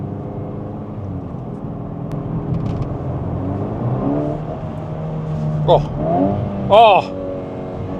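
A 2024 VW Golf R Estate, a 330bhp car in race mode, revs hard and climbs through the gears, a steady engine drone rising in pitch with a couple of sharp peaks, while someone speaks briefly over it.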